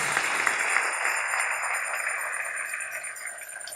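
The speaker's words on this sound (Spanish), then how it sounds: "Dale ese aplauso al Rey en esta preciosa y linda mañana" A church congregation claps together for the King on a Sunday morning, a dense wash of many hands that gradually fades, with a sustained musical tone underneath and no speech.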